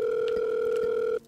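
Telephone dial tone in a Minecraft game, a steady loud electronic hum held for over a second and then cut off abruptly, with no voices.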